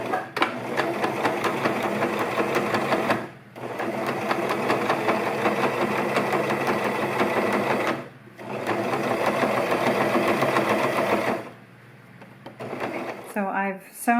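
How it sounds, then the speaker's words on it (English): A sewing machine runs a straight stitch along a drawn pattern line on a chair pouch, loud close rapid mechanical whirring in three long runs separated by brief pauses, ending with a short clatter. "I'm going to straight stitch along that pattern on both sides."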